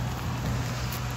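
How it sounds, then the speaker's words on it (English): Steady rain falls at a riverside while pike fishing, a faint, even hiss of drops with a low background rumble and no talk. "it's just raining at the minute"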